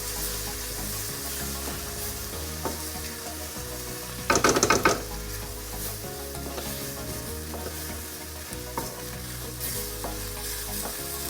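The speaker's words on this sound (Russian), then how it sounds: "теперь потихонечку мы добавляем наш бульон. И все, помешиваем" Beef goulash being stirred in a pot after broth is poured in, a steady low sizzle and bubbling with a brief clattering burst of spoon scraping near the middle and occasional soft knocks.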